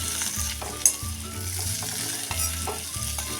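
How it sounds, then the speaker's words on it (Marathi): Potato pieces sautéing with cumin, turmeric, ginger and garlic in a pan for jeera aloo, a loud continuous sizzle with spoon scrapes and a low steady hum underneath. "आता टाकूया बटाट्याच्या फोडी हे आता हलक्या हाताने आपण परतत राहायचं आहे"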